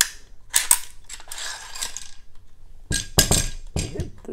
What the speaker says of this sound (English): Let's look at the bolt carrier group.